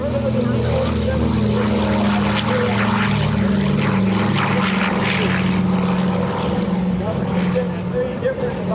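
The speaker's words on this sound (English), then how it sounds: "That airplane that just took off was built to fly passengers in wartime." A Douglas C-47 warbird airplane takes off at an airshow, its radial propeller engines producing a loud, steady drone that holds throughout, with people talking faintly underneath.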